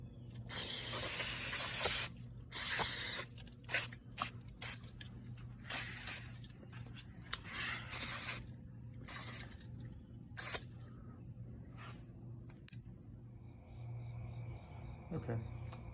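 Brake cleaner sprays in repeated bursts onto dirty new brake calipers for a 2001 Honda S2000, a harsh aerosol hiss that starts long and loud and then breaks into short squirts against a low background hum.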